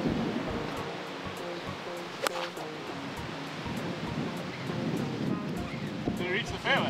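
Wind blowing across a golf course at Metropolitan Golf Club in Cape Town, a steady broadband rush buffeting the microphone throughout, with a few faint knocks.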